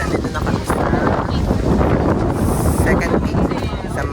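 Strong, cold wind roars and buffets the microphone on the second peak of Mount Talamitan in Nasugbu, Batangas, a continuous gusting rumble with people talking under it.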